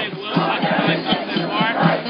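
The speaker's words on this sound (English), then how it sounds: "But it's a happy crowd with a lot of spirit." A noisy crowd of around a hundred marchers at a Brooklyn Bridge commemoration march, a dense murmur of many voices with cheers and shouts close by, steady and loud throughout.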